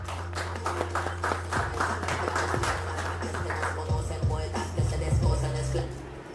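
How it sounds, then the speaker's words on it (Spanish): Audience clapping for a speaker at a talk on music copyright, a moderate burst of claps that thins out over several seconds with some shuffling and tapping beneath. "Un aplauso para ella, por favor."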